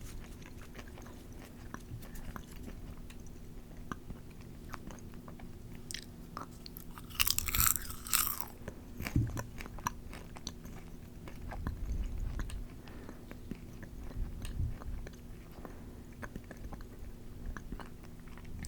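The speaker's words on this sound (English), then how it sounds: "That was a really yummy crunchy one." Soft, close-up chewing of a crunchy snack continues with intermittent crunches and bites, a brief louder rustle midway, over a faint steady hum.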